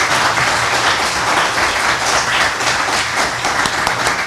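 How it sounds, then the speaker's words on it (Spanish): An audience at a panel discussion applauds warmly, many hands clapping in a dense, sustained wash that stays loud and even throughout. "Voy a pedir un aplauso a los cuatro excelentes panelistas."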